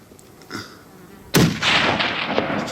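A single sharp rifle shot cracks out during a tahr hunt in open mountain country. It starts with an abrupt loud report, and a rolling echo and outdoor ambience trail off after it.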